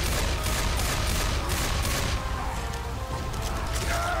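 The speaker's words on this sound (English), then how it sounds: "Taste bullets, you fat bastard!" Dense, continuous gunfire against the Tank in Left 4 Dead 2, a rapid unbroken barrage of shots at close range, loud and sustained throughout.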